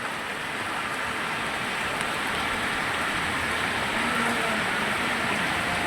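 Heavy rain falls steadily at Moti Gop in Gujarat, a dense, even hiss of drops on surfaces that holds constant throughout, with a faint murmur of road traffic mixed in below.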